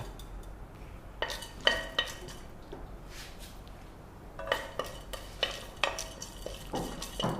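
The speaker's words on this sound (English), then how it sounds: "We can see the mustard spluttering." Mustard seeds splutter and pop in hot oil in a pan as Indian tempering is made for aloo bonda, with crackling bursts and a few utensil clinks, close and soft.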